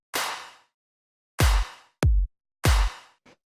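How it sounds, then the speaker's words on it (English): Layered clap samples from an electronic dance track: three bright, snappy claps with short decaying tails, two carrying a heavier low body, each followed by a quick extra layer, alone with no talk. "next thing here are these claps"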